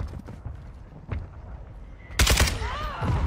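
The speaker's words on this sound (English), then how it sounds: "Friendly mortar strike on the way." A friendly mortar strike and gunfire in a first-person shooter video game, with a few scattered distant shots, then a sudden loud explosive impact followed by rumbling debris and a short whistling tone.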